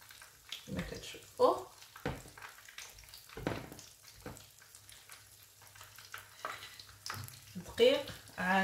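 Breaded chicken breast pieces, coated in flour and toasted breadcrumbs for a homemade KFC-style dish, frying in hot oil with a steady low sizzle, broken by brief stirring clatters and someone talking over much of it.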